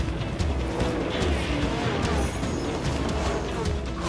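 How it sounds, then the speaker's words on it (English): A Texaco Ford Sierra Cosworth race car sweeps past at close range, a loud continuous engine roar with broadband rumble filling the whole stretch, steady and dense from start to finish. "Soper going through in the Texaco Ford"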